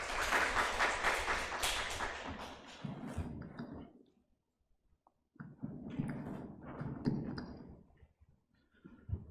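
An audience at a student village-planning contest briefing applauds a guest architect, with broad clapping that fades into a pause before a second, quieter round of applause.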